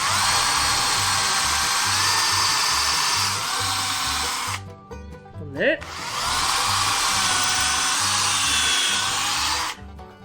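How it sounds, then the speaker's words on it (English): A power drill whines steadily through wood in two long bursts separated by a short pause, boring rivet holes, with faint speech in the gap, loud and close. "And I'm going to drill two holes."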